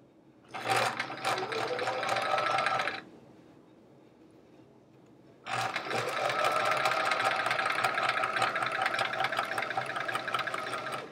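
A designer sewing machine stitches a chevron quilt top in two runs, first a burst of steady rapid needle clatter, a brief near-quiet pause, then a longer continuous stretch of close, even stitching.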